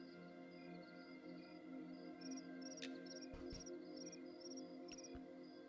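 Crickets chirp in soft, repeating pulses within a nighttime harbor setting in a video game, set against a steady low ambient hum and faint background music, with a couple of brief clicks.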